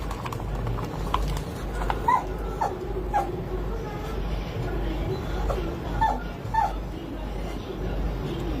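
A pet dog whimpers and yips in short, soft bursts over a steady low background hum, with brief whines recurring every second or two.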